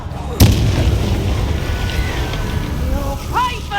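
In Hogwarts Legacy, a Confringo blasting spell goes off as one sharp, loud booming explosion near the start, followed by a rumbling tail and combat sounds, with a voice speaking partway through.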